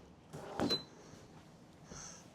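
A thick wooden kitchen drawer with dovetail construction slides and bumps shut once, a short quiet rumble in a hushed room.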